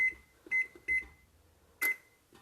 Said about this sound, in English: I'm going to preheat the oven to